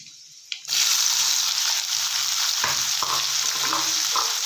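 Chopped onion with mustard seeds, cumin and curry leaves hits hot oil for green beans palya, a sudden loud burst of sizzling that settles into a steady, close crackle broken by a few spoon scrapes.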